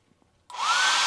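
A small, tiny hair dryer switches on partway through and blows steadily, a loud whooshing whine after near silence.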